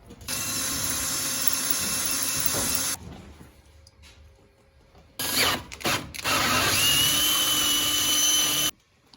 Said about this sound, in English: once you get those drilled out, now you're going to start by tapping it to make new threads for the bolt